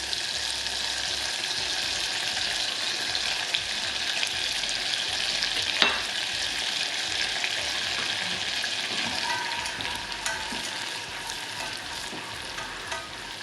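Minced garlic sautéing gently in melted butter in a saucepan, a steady soft sizzle and crackle running throughout with occasional faint stirring clinks, no voices.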